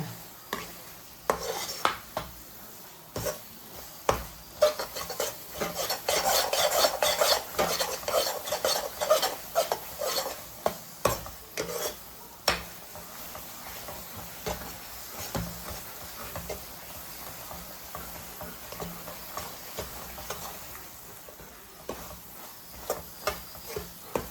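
Coconut sweet mixture is stirred in a pan as it thickens, with continuous quick scraping and clinking of a utensil against the pan and a faint sizzle, louder in the middle stretch.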